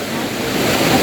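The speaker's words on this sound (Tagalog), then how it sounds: "Malakas ang alon!" Strong river waves rush and surge over rocks beside a riverside rest house, a loud, continuous roar of churning water with wind buffeting the microphone.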